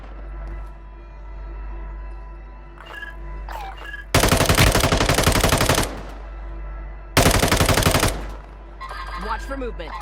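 Two loud bursts of automatic gunfire, each lasting one to two seconds, come from the mobile video game Call of Duty Warzone Mobile. A steady low hum and faint scattered game sounds fill the gaps between bursts.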